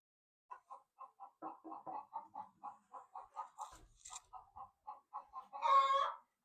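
Chickens in a new coop cluck in a steady run of short, evenly spaced calls that end in one louder, drawn-out squawk, close by with no talking.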